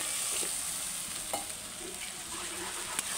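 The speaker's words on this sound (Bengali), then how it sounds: "এবার জল দিয়ে দেবো" Fried spice paste for a spicy bhola fish curry sizzles and is stirred in a pan as water goes in, a steady frying hiss with a few brief clinks, no voices.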